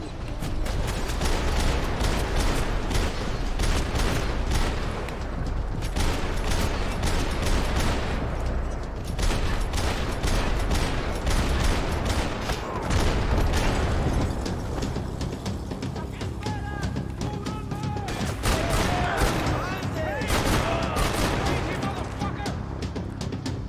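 Enemy gunfire in Max Payne 3, bursts of rapid shots and sharp cracks repeating across the whole stretch, loud and dense, with game noise and a voice underneath.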